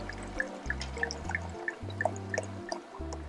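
Red wine poured from a freshly opened bottle into a pot for beef bourguignon, a faint trickle with scattered drips over a low, steady background hum.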